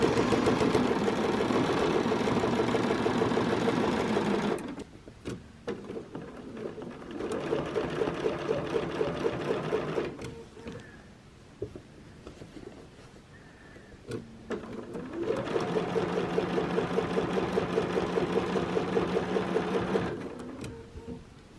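Sewing machine stitching a quilt with rulers runs in two long, loud, steady bursts of rapid needle chatter, separated by a quieter pause with light handling noises, then stops.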